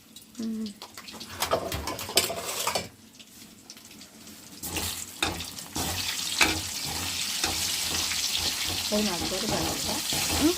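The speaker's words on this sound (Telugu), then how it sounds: "ఓ పక్క ధనియాలు ఉల్లిపాయలు ఎండుమిరకాయలు అయితే వేగుతూ ఉన్నాయి" Coriander seeds, onions and dried red chillies frying in a pan, a steady sizzle that swells over the second half, with clinks and stirring sounds and some running-water noise near the start.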